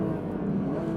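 A Porsche 992.2 GT3 on Cup 2R tires runs on a smooth racing circuit, its engine droning in a steady, loud, continuous hum with tire noise heard from inside the car.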